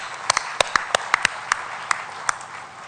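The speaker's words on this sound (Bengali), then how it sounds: "তাদের উদ্দেশ্যে আমরা একটা হাততালি দিই।" At the opening of the Amar Ekushey book fair organised by Bangla Academy, scattered hand claps ring out, about a dozen sharp, separate claps spread irregularly over a quiet background.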